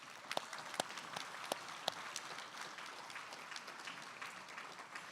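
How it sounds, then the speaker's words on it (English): Audience applause at a student employee of the year award ceremony, a fairly faint, steady wash of clapping from a crowd with a few sharper individual claps standing out near the start. "So I think that deserves a big round of applause."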